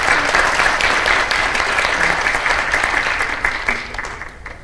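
Loud, dense applause from an audience at a policy seminar on future education innovation, many hands clapping steadily and then tapering slightly toward the end.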